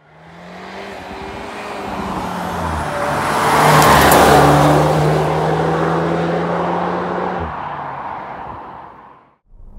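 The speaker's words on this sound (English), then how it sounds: "Let's go and drive the Tiguan R." A Volkswagen Tiguan R accelerates hard, its revs climbing through several gear changes in a loud, sustained roar heard from inside.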